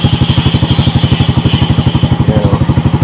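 A motorcycle engine idles after a remote start, its close, even chugging pulses repeating rapidly and steadily with a light mechanical clatter on top.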